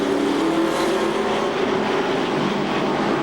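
Pro stock race cars coming off the fourth turn at Seekonk Speedway, a dense, loud, continuous engine roar from several cars together with no break.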